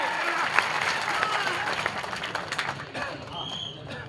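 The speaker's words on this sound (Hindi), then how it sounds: "उनके लिए तालियां बजाइए।" Applause and crowd noise rise at an outdoor political rally, scattered clapping and cheering of a gathering heard at moderate loudness, thinning out toward the end with some background voices mixed in.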